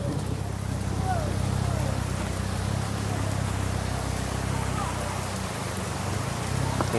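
Steady rain falls on a riverside glamping campsite as a constant dense hiss, with a voice speaking faintly beneath it.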